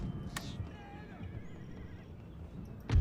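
Cavalry horses in a Netherlands campaign of a strategy game whinny as they move in, with a sharp neigh early on, soft hoof clatter and a loud thump at the end.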